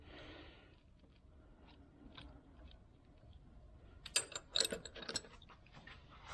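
A part is unscrewed by hand, giving soft ratcheting and gritty clicking turns that build into a cluster of sharper clicks near the end, close and fairly quiet, with no talking.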